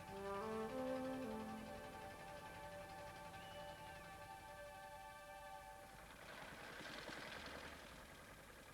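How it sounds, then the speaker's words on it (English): A small peki-peki boat engine on an Amazon river boat chugs steadily at a low, even drone, with a brief tonal sound early on and a gentle rushing noise later. "I was now in a peki-peki, called after the noise of its engine."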